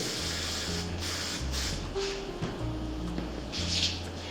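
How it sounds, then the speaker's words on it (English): Hairspray misted from an aerosol can onto a rolled retro updo, a steady broad hiss lasting several seconds with a few brief pulses, close and fairly loud, with no talking. "I'm going to go back and just kind of maybe neaten it up a little bit with hairspray."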